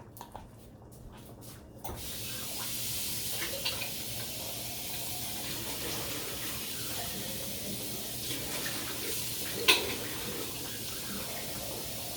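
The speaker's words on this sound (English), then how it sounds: "So I put this in my sink and I wash it." A glass container rinsed under a running kitchen sink tap: steady water splashing and pouring that starts after a brief quiet moment and continues evenly, close by, with a faint clink partway through.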